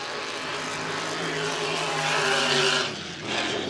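An H350 hydroplane racing boat roars at full throttle through a turn during time trials at Valleyfield. Its engine gives a loud, dense, rising howl, then briefly drops and surges again near the end.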